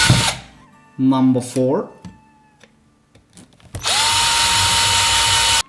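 An electric drill bores finger holes in a PVC pipe for an Irish whistle, a brief burst then a long steady loud whine near the end, with a short spoken line in between.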